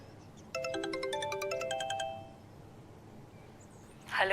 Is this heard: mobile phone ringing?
yes